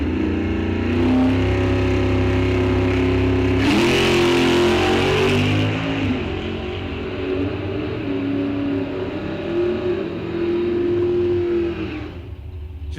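At a drag strip, a small-block Mopar 1971 Duster and a big-block Camaro launch and accelerate hard together, loud engines roaring through rising gear pulls before fading slightly.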